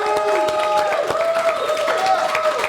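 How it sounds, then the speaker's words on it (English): A live radio show audience applauds comedian Lenny Travis, with a steady wash of clapping and crowd noise throughout and a sustained tone ringing over it. "big hand for Lenny Travis. Big round of applause"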